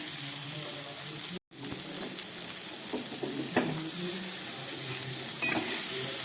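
Spice paste for a rita and tengra fish curry fries and is stirred in a pan, giving a loud, continuous sizzle with scraping strokes and a brief silent gap early on.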